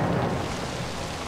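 Heavy rain and rumbling thunder from the zombie video game Zombi make a dense, steady roar, loud and close, with no speech over it.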